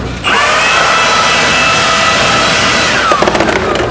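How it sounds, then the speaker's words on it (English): An air blower clears dust from a truck, a loud, steady, close hiss with a high whine that holds for about three seconds, then cuts off into a few sputtering bursts. "We'll hit the rest of this dust out of here with the blower real quick."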